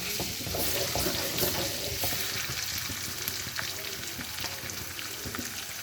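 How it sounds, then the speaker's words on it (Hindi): Ginger garlic paste fries in a pan with a dense, continuous sizzle and crackle, joined by occasional light stirring scrapes, close and steady throughout. "हम इसको हल्का सा फ्राई करेंगे।"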